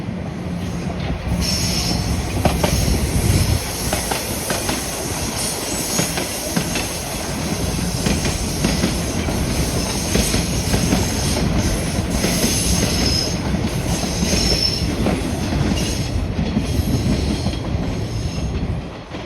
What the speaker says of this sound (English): There goes a southbound train heading to St. Clair and then further south to downtown.